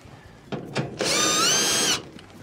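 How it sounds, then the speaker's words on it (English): A power drill backs out screws from the blower housing of a Whirlpool dryer: two short clicks, then about a second of loud, close high-pitched whine before it stops. "remove the screws for that"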